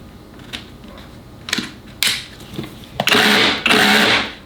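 Festool KHC 18 cordless rotary hammer in rotary chipping mode, with a few sharp clicks and short spin-ups followed by two loud, close bursts of rattling hammer-drill action and no speech.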